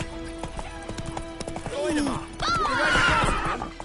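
Roach, Geralt's horse in the video game The Witcher 3, whinnies loudly and snorts over steady hoof clip-clops, with a voice speaking in the background.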